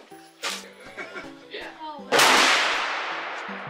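Sharp outdoor gunshots crack at a shooting range, several spaced reports followed by one loud blast whose rumble trails off, heard near and mixed with nearby talking.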